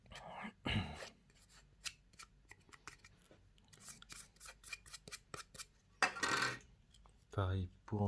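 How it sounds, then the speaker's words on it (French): An eraser scrubs pencil lines off a handmade cardboard PS5-style controller, making a quick run of close, rhythmic rubbing strokes mixed with a few louder scrapes and handling noises. "On va prendre la gomme, on va gommer tous les traits."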